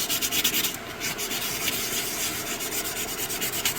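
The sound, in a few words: sanding a stone's edges with 3M sandpaper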